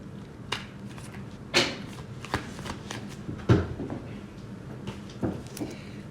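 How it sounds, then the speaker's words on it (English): Tarot cards are shuffled by hand in a quiet room, giving a series of soft riffling and slapping bursts spread irregularly over several seconds, near and moderately loud, with no talking. "Now let's pull some cards"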